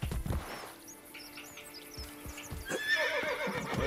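Horse in the Assassin's Creed Brotherhood video game giving a loud, close whinny with clip-clopping hooves beneath, set against light ambient game sound.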